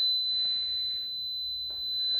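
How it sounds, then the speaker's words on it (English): A Powerjack 12000 low frequency inverter sounds its overload alarm, a thin continuous high-pitched electronic tone holding steady over faint background noise. "Oh, we got an alarm."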